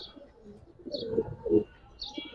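Giribaz and coloured pigeons coo in a few low, rolling bursts close by, with the two strongest swells in the middle, and faint chirps float above them.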